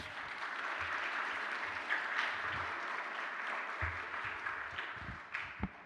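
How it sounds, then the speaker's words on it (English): Applause for a young woman singer at a school chapel service, a steady round of clapping spread through the room, moderately quiet and even, with a few louder claps near the end. "Can we give her a round of applause?"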